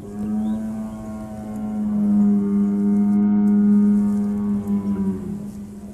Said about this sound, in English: Is there a cow on board?